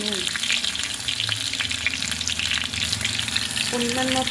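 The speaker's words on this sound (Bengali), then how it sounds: "পটলগুলো দেখুন লাল লাল করে ভাজা হয়ে গেছে, আরও একটু হবে।" Pointed gourds (potol) fry in oil in a pan, producing a loud, continuous close-up sizzle with occasional stirring, heard alone without voices.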